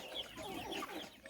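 Two-month-old improved kienyeji (indigenous) chickens cluck and chatter softly in a flock, a quiet stream of overlapping calls with no talking.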